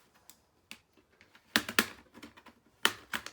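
Plastic clips on the case of an HP Stream 11-d016na laptop snap open in a few sharp, close clicks, some in quick pairs, separated by quieter handling taps.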